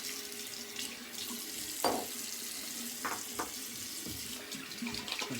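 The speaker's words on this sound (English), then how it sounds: "Cold water rinse." Cold water running steadily from a tap for a rinse, a continuous close hiss and splash with a few brief clinks and sloshes, and no speech.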